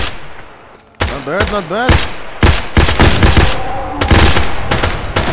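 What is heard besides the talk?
gunfire in a STALKER roleplay video game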